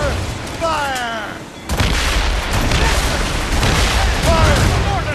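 Ship cannons fire in the naval combat of Assassin's Creed Rogue, a heavy booming blast followed by a sustained rumbling barrage, loud and close, with shouted voices over the gunfire.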